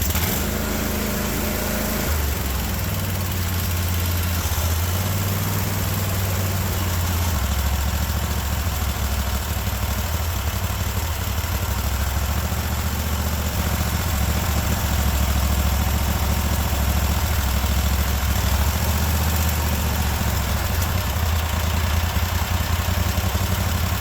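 Cub Cadet 1050 hydrostatic lawn tractor engine idling steadily at close range, a continuous low drone with a slight drop in pitch early on, then holding an even governed idle with no talking.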